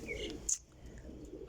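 Teddy Kamagar breeder pigeons cooing softly nearby, a low throaty murmur with a brief sharper chirp partway through, steady and close without any talk.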